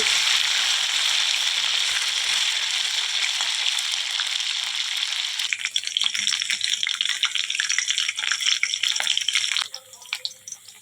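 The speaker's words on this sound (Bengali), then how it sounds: "সেম প্রসেসে বাকি মাছগুলোকেও আমি ভেজে নিচ্ছি।" Pieces of katla fish frying in oil in a pan, with a steady, hissing sizzle that turns more crackly and spattery partway through before thinning out near the end. There is no talk.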